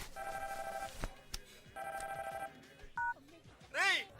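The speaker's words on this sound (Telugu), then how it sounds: "ఫోన్ రింగ్ అవుతోంది" A phone rings in short electronic bursts, with a few brief tones and clicks between the rings, at moderate volume.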